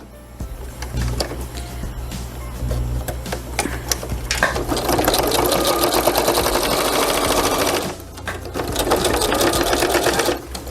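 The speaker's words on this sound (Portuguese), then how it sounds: "Então eu vou bater uma costurinha bem na pontinha." A sewing machine runs stitching along the edge of fabric for a simple cloth pouch, a loud close motor whir with rapid needle clatter in two long bursts, pausing briefly near the end.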